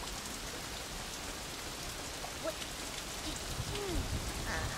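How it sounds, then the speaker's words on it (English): Steady rain hisses continuously, with scattered drops pattering nearby and no voices. "That was the sound of rain."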